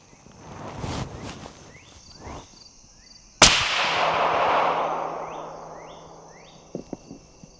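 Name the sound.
suppressed 6.5 Creedmoor rifle shots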